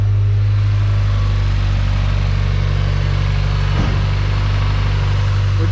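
A car engine running with a turbo and a slight turbo leak, a loud, steady low droning hum with a constant tone and no breaks, close to the listener.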